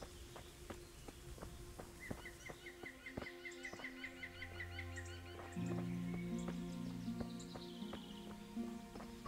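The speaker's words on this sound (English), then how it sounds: "And we have to start listening to birds too." Birdsong in Kingdom Come: Deliverance, a medieval forest setting, with repeated bright chirps and trills over ambient game sound, footstep-like taps and a low droning tone entering midway.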